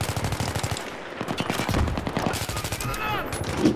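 Rapid automatic gunfire in Battlefield 3, a fast stream of sharp shots with brief pauses and some whistling ricochet-like tones near the end, loud and close, with someone talking briefly alongside.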